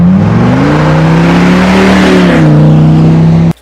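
A Ford Super Duty pickup's V10 engine revs in one sustained, loud, close pull, its pitch climbing and then holding with a raspy, tuner-car quality rather than a V8 rumble, before cutting off abruptly at the end.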